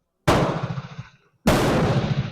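Two loud, close rifle shots from a 1903 Springfield, about a second apart, each a sharp blast that rings out and decays before the next.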